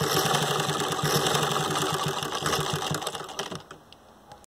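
A sewing machine runs close and steady, rapidly stitching fabric for a portable baby nest, its needle chattering in a fast even rhythm before slowing and stopping near the end.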